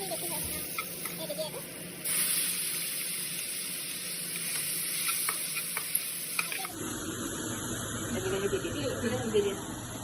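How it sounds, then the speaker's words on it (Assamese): Yogurt mixed with red chili and coriander powder sizzles in a pan for paneer butter masala, a close, steady frying hiss with scraping stirs while someone talks over it. "এতিয়া ৰঙা হোৱাকৈ ভাজি দিবা।"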